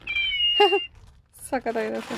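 A musical plush cat pillow toy from a Bangalore wholesale soft toy shop plays synthetic meows, one short call then a longer string of them, with a steady electronic tone at the start and talk mixed in.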